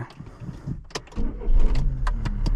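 An Opel Corsa's engine cranks and catches, heard from inside the cabin: a few clicks, then a deepening rumble that settles into a steady idle.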